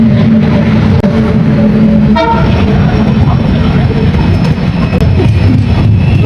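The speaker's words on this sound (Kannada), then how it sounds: "ನಾವು ಹೋಗೋ ಟ್ರೈನ್ ಬಂತು" A train pulls into a station, a loud continuous low rumble with a short horn toot early on and a busy platform din throughout, faint voices mixed in.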